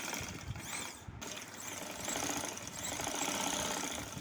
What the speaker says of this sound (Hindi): हमने ये दोनों आस्तीनों पर सिलाई शुरू करनी है इस तरह से